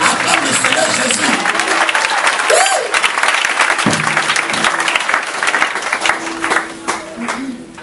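A church congregation applauds in a dense, continuous wave of clapping that fills the space and fades slightly toward the end, with voices calling out underneath.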